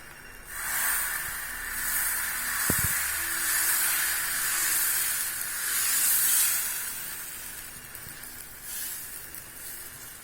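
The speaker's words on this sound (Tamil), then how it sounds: "வாங்க தோசை ஊற்றலாம்." Wheat dosa batter poured onto a hot pan, giving a steady hissing sizzle throughout with a sharp clatter of the pan or ladle early on, close and moderately loud with no talk.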